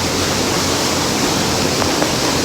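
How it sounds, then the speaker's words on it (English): Roaring waterfall heard from behind the falling curtain of water in Wadi Mujib canyon, a dense, steady broadband rush that stays loud and unbroken throughout. "The inside of the waterfall, we're behind it right now."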